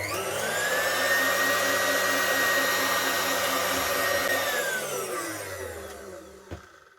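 An old KitchenAid Classic stand mixer running at its low speed setting: a steady electric motor whine and hum that holds for several seconds, then winds down and stops, ending with a small knock.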